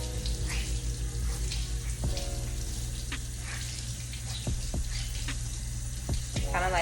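Tap water runs steadily and splashes onto a sponge close by while cleaning makeup brushes, with scattered drips and wet squishing, no talking.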